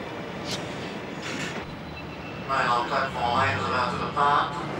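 A passing train rumbles with rhythmic clacking and faint squealing, loud and close, rising and falling in bursts.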